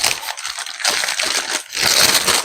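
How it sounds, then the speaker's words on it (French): Bag of mandarins being handled, with loud, close crinkly plastic rustling and crumpling in bursts, a short lull near the middle, then more rustling. "ça fait un peu de bruit, mais j'ai pris des mandarines"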